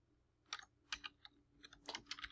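Someone types a search term on a computer keyboard, with several quick bursts of light key clicks, close and fairly quiet, separated by brief pauses.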